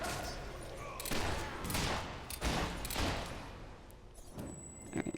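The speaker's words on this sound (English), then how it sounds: "I'm just shooting" Repeated gunfire from a Fable 3 video game battle, a steady burst of loud shots and impacts layered over continuous in-game noise and ambience.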